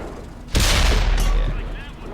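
Tank cannon fire in a video game, a sudden loud blast with a heavy low boom that rumbles on and slowly fades, followed by a second crack.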